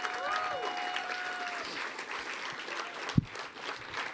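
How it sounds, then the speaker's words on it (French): Podcast audience applause, a steady wash of clapping with crowd murmur underneath, one sharp thump near the end. "Donnez une bonne main d'applaudissement, s'il vous plaît, à Thomas Levac, Stéphanie Vandelac."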